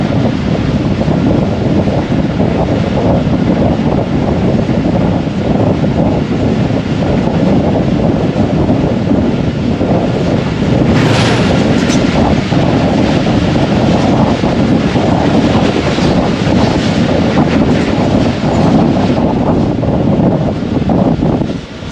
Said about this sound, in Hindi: अब कराची एक्सप्रेस भी पहुंच गई है